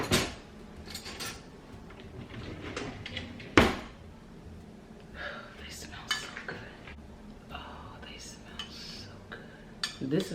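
A metal spoon clinks and scrapes against a pot of lima beans cooked with smoked turkey, with several sharp knocks, one loud clang early on, and scattered lighter stirring taps close by; no speech is heard.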